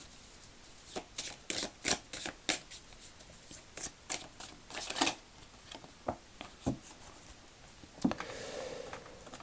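Gaia oracle cards are shuffled by hand up close, a rapid series of crisp riffling bursts with short pauses between them, ending in a softer rustle.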